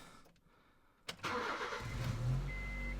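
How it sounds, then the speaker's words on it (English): A 2005 Honda Jazz with an intermittent crankshaft sensor fault cranks briefly, then catches and starts, settling into a steady, close engine idle with no talk over it. "So let's crank the car over."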